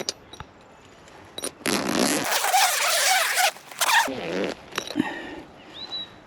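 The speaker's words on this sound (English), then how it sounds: "Get our zips undone." Zips on a Drifter awning bag are pulled open in close, loud rasping strokes, one long run and a few shorter tugs, with rustling fabric in between.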